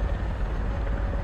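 A helicopter in the War Thunder game, a steady low rotor drone and engine rumble holding loud and constant with no break.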